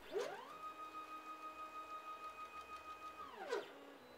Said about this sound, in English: While going up, the plotter is moving the x-axis left and right, so that the square tube slides in easily.